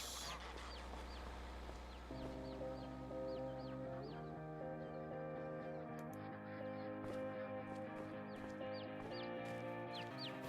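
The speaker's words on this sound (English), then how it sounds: "Chickens, chickens, chickens." Chickens cluck in Farming Simulator 25: short, repeated clucks scattered through the clip, heard over steady background music with sustained tonal chords.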